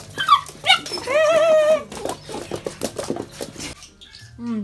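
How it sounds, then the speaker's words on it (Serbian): Small puppies give high, sliding whimpers and short yelps, close and loud, in quick bursts followed by softer scratching and rustling, with a faint voice at the end. "Gde ste, mali psi?"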